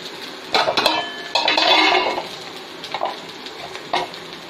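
Onions and fish curry ingredients sautéing in a pan, with bursts of scraping, clattering stirring and a soft sizzle, loud for a couple of seconds then sparse clinks and pauses.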